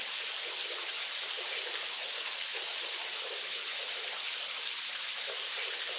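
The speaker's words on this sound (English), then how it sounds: "Gotta love the rain in this game." Rainfall in the Silent Storm video game: a constant, soft patter and hiss of many drops, unbroken and fairly quiet, with no speech.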